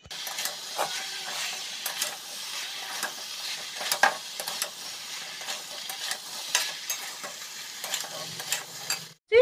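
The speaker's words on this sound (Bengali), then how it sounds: "চলো এখন এঁচোড়টা দেবো, এঁচোড়টা দিয়ে ভালো করে নাড়াচাড়া করে কষাতে থাকবো।" Raw jackfruit being stir-fried in a red, chilli-spiced masala, with a steady close sizzle and frequent scraping stirs of a spatula throughout, no voices, and a sharp knock right at the end.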